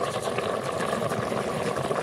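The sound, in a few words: sauce bubbling in a pot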